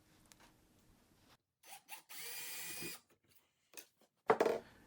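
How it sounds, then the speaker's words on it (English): A drill bores a hole through a small wood strip during a woodworking project. It whirs steadily for about a second, close and fairly quiet, with a few short knocks before it and a sharp scrape just after. "After drilling the hole at the 5-inch mark"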